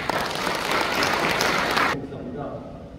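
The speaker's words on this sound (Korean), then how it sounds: "뜨거운 박수 부탁드리겠습니다." An audience at a church elders' association retreat claps in a dense burst of applause that cuts off abruptly partway through, leaving a quieter room with faint voices.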